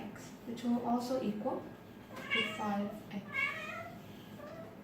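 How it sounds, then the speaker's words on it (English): A pet cat named Cookie meows a few times, the cries rising and falling, mixed in with a person speaking close by. "That's my cat, by the way."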